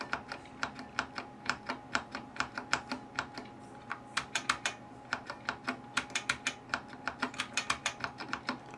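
Typing on a thrifted computer keyboard, a steady run of crisp, clicky keystrokes in quick irregular bursts, close and fairly quiet with no talk over it.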